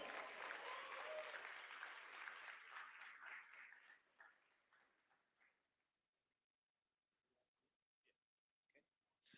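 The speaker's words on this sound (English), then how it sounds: "Once more, we clap our hands for Royal Computers." An audience at an AI hackathon awards session claps for a team, a fairly full round of applause that thins out after a few seconds into a handful of scattered, isolated claps before near silence.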